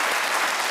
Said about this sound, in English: that cheer's not going to make any sense to anybody watching this